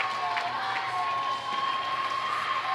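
Crowd noise fills a gym at a girls' eighth-grade state quarterfinal basketball game between the WLB Lady Wolverines and Washington St. Patrick: a steady, dense roar of cheering and shouting voices, with no clear pauses throughout.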